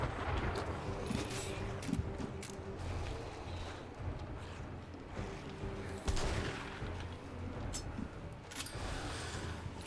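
Gunfire rattles through the video game 7 Days to Die during a Blood Moon night, with bursts of rapid shots and scattered single blasts over steady background noise, dense and continuous across the stretch.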